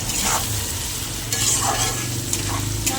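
Turmeric powder being stirred into a tilapia curry with drumsticks, potato and tomato in a pan, a steady close sizzle with scraping stirs across the whole moment, no talking.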